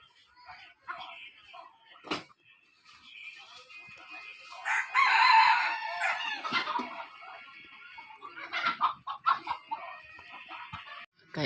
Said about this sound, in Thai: ไก่อ่อนเด้อขันแบบนี้เด้อ